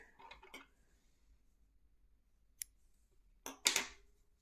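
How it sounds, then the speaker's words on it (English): Scissors snip off the yarn end of a crochet granny stripe blanket, giving a few sharp metallic clicks and cuts, with a pause between the first snips and a closer pair near the end in a quiet room. "Now we just have to cut off this end here,"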